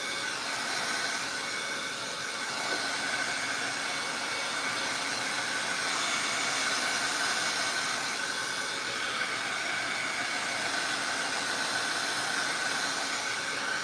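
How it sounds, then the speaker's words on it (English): Heat tool blowing over wet craft paint, a steady close-up whoosh of hot air with a faint whine, held constant throughout with no talking. "notice that I'm moving my heat tool"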